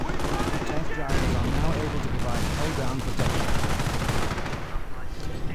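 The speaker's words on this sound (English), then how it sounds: "Vickers machine gun emplacement just left to stand out in the middle of the bridge" A Vickers machine gun emplacement fires in a war strategy video game, dense rattling bursts mixed with other gunfire and battle noise, loud and continuous, with a voice talking over it.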